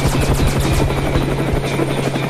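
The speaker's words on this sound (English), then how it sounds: "I don't know if I can get us away from that helicopter." A helicopter in an audio drama chase scene, with loud, steady rotor chopping and a droning engine that fill the whole moment up close.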